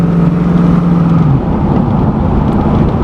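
A Jaguar XJ6 fitted with a Holden 308 V8 rumbles steadily and loudly through its exhaust up close, a deep continuous drone that holds without pause.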